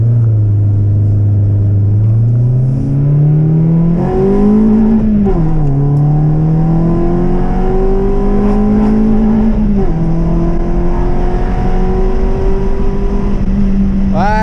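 A Peugeot 206 S16 engine revs repeatedly, its pitch climbing and falling through several throttle blips over a steady loud idle rumble, with no talk.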